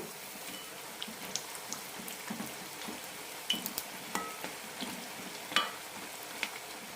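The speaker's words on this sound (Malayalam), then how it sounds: "മീഡിയം ഫ്ലെയിമിലിട്ട് വറുത്തെടുത്താൽ മതി ഉള്ളിലെല്ലാം നന്നായി വെന്ത് കിട്ടണം" Karavada rice snacks deep frying in hot oil over a medium flame, a steady low sizzle with scattered crackles and pops, close and fairly quiet, with no talking.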